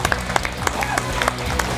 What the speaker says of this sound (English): Let's start applauding him.